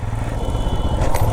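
A motorcycle rides along a road, its engine giving a continuous, loud, rough drone with steady wind and road noise throughout.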